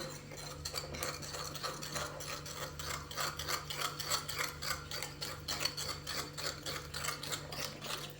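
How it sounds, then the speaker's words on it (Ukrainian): An egg is beaten with salt in a bowl for dumpling batter, a fast, steady rhythmic scraping and tapping of a utensil against the dish, quiet and close. "До яйця додаємо солі і перемішуємо яйце з сіллю."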